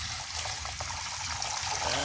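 Water pumped through a pipe into a green-tinged fish pond, a steady splashing trickle heard close by for a short moment.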